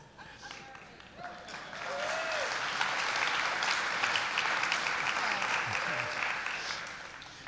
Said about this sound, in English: You guys didn't know you were going to tire of clapping tonight